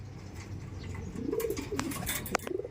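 Racing pigeons coo softly inside a loft, a few low murmuring calls rising over steady background hum, with a faint flutter or knock near the end.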